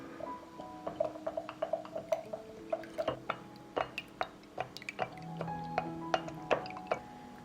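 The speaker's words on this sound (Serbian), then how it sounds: "Sipat ću kašičicu kurkume u 200 ml mleka. Pa ću sve to promešati." A teaspoon of turmeric is stirred into 200 ml of milk, the spoon tapping and clinking against the glass in quick, irregular strokes with small liquid sloshes. It is close and fairly quiet, with no one speaking.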